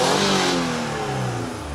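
V6 engine of a Mitsubishi Delica Space Gear Super Exceed being revved, a close, loud, steady roar that holds and then eases slightly toward the end, with no voices.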